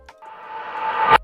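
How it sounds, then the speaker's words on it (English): A noisy synth riser swells steadily upward in brightness and loudness for about a second, then cuts off with a short burst. "We also have a riser here."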